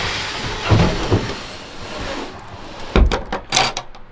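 A six-foot wooden drawer in a truck camper slides along bare runners with no rollers. It gives a couple of scraping rumbles, then louder knocks and a thud as it moves and stops, close up and with no talking.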